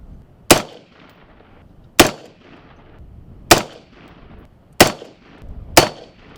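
Five sharp rifle shots fired with match grade ammunition at a shooting range, spaced roughly a second or more apart, each a loud close crack with a short decaying tail, no talking.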